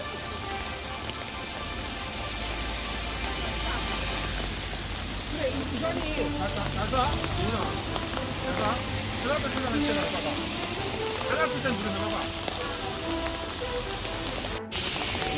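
Rain falling steadily at a cherry blossom spot in Jinhae, a soft constant patter with traffic or motor hum beneath and a person talking over it.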